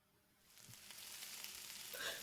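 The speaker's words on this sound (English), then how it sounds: "The sound of sizzling bacon." Bacon sizzles and crackles in a pan, the hiss swelling louder over a couple of seconds, fairly quiet and alone.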